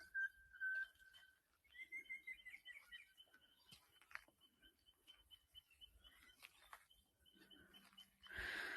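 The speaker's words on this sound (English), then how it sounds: "A new bird flies overhead, introducing a different call to the sound mix." Bird calling during a quiet forest walk: clear, thin whistled notes repeat at intervals against a faint woodland background, fairly distant and soft.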